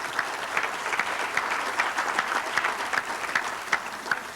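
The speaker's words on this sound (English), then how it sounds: "Let's just give another round of applause." A round of applause from the audience at a youth sports volunteer recognition event, steady, moderately distant clapping with scattered sharper claps.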